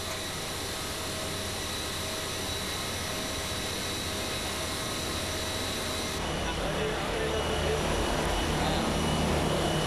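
A Lufthansa Airbus A320 takes off from runway 11. Its engines make a steady, broad whooshing roar with a faint whine, and the noise swells louder and fuller partway through.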